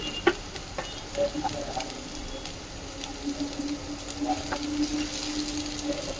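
Ginger and chopped green chili fry in a pan while being stirred, giving a soft, steady sizzle with light scraping taps and a faint hum running underneath, all fairly quiet.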